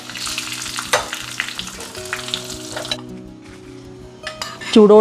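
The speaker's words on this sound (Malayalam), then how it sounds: "നമ്മുടെ കടുകും ഉലുവയും പൊട്ടി വന്നിട്ടുണ്ട്" Mustard and fenugreek seeds splutter in hot oil for a Kerala kalan, a loud close sizzle with sharp pops and a few utensil clinks.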